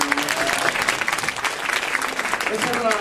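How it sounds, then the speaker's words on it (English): Audience applause at a conference panel session, a sustained dense round of clapping filling the room, with faint voices underneath. "One big round of applause for him."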